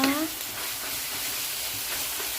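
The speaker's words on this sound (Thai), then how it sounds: "นี่ค่ะเอาคะน้าลงไปผัดเลยนะคะ" Chinese kale and pork stir-fry in a hot pan with a steady, loud, close sizzle throughout, following a brief clatter at the start.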